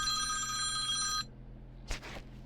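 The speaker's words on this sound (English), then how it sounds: "there's a phone call coming in." A telephone rings with an incoming call in a single bright electronic trill that cuts off after about a second, followed by quiet room tone and a brief soft rustle or knock.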